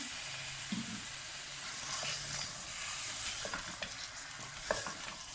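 Meat (gosht) sizzles as it is added to a pan with onion, garlic and ginger for palak gosht, a steady frying hiss with scraping stirs and occasional spatters, alone with no talk.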